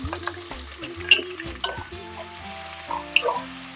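Chopped onions, green chilies and curry leaves sautéing in a pan for a spicy quail fry, with a steady close sizzle and intermittent stirring clatter throughout.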